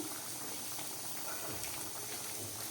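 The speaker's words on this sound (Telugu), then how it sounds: "ఉడకనిద్దామండి ఇంకాసేపు మూత పెట్టేసుకుందాము" Country chicken curry simmering in a covered pot, Godavari-style, gives a steady close bubbling and hissing boil that runs evenly throughout with no talk over it.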